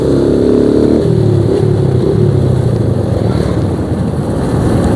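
A motorcycle on a road in Karangduwur runs with a loud, close engine drone for about two seconds, then the engine cuts out, leaving steady wind and road rumble as it coasts.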